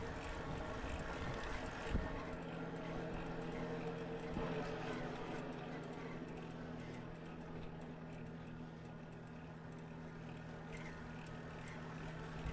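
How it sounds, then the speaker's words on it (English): Lectric XP electric trike hub motor running while riding, a faint steady whine with a sustained low tone under wind noise and road rumble, no voices. "You can hear the motor does have a little bit of noise."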